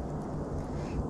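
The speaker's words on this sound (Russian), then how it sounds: "Это шум от завода, который находится 3 километра от этого места." Steady low hum from a factory about three kilometres away, carried through a winter forest; a continuous, dull, distant rumble with no distinct events.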